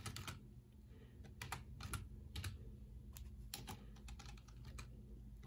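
Rapid clicking of computer keyboard keys in bursts at close range, typing a short search entry into phone unlocking software, with no talk.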